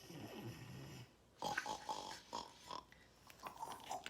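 Children imitate pigs with a quiet string of short oinking snorts and snuffles, coming in uneven bursts after a brief low murmur at the start.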